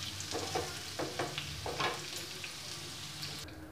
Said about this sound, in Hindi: अब इसी तेल पे ही हमको गोभी भी फ्राई करना है।